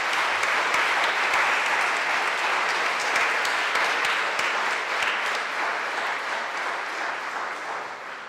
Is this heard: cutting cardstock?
no